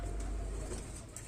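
A high flyer pigeon gives a brief, soft coo over a low background rumble of passing traffic.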